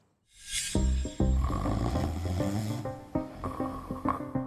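Loud, close snoring from a sleeping adult, a series of rough, rattling inhaled snorts repeating in an uneven rhythm with no talk over it.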